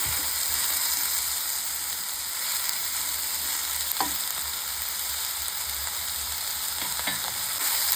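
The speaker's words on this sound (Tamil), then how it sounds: "கொஞ்சம் நல்லா நமக்கு இந்த பொன்னிறமாக வர வரைக்கும் நம்ம நல்லா வறுத்து எடுத்துக்கலாம்" Ridge gourd fries in oil in a kadai with a constant, even hiss of sizzling and a few faint stirring scrapes throughout.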